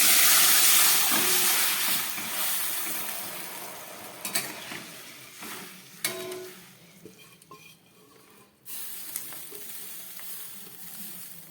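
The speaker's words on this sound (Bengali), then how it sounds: "এবার এর মধ্যে আমি এই প্রেসার কুকারে রাখা হাফ সিদ্ধ ডালটা ঢেলে দিচ্ছি।" Half-boiled mung and pea dal poured from a pressure cooker into a hot wok of frying spices, giving a loud hiss and sizzle that fades and bursts again with stirring, no talk.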